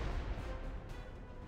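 A Soviet S-51 artillery gun in a mobile real-time strategy game lets out a low, rolling roar, a heavy rumbling blast that fades over a second and a half, moderately quiet and heard alone.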